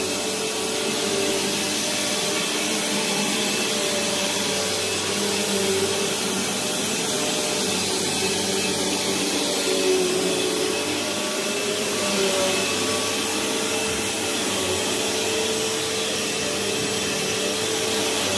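Eureka or Bissell vacuum cleaner running steadily and loudly, a continuous broadband motor roar with airflow whoosh that holds constant throughout with no talking.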